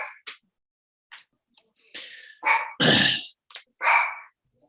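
A pet dog inside a home barks in short, loud bursts after the doorbell rings, several sharp yaps with pauses between them, close to the microphone and without talk.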